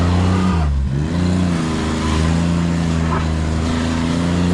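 A vehicle stuck in mud in a field revs its engine hard while people push it, a loud, close, sustained drone that briefly dips near the first second and then holds steady.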